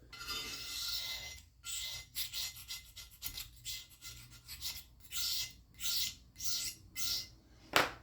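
A scraper is pushed in repeated rasping strokes across the metal sole of a Stanley Bailey #7 hand plane. The strokes are close and gritty, coming in a steady rhythm with short pauses between them.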